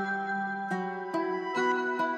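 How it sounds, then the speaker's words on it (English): A reversed guitar sample in an FL Studio trap beat: sustained swelling guitar tones that change pitch roughly every half second, each note rising into a sharp cut-off, moderately quiet and steady. "Yeah, so you can hear the reverse sound in the background."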